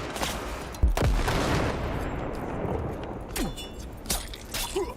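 Close-range gunfire from the video game Cyberpunk 2077 Phantom Liberty, with a sharp shot near the one-second mark followed by dense, continuous rattling bursts and further cracks toward the end, loud throughout.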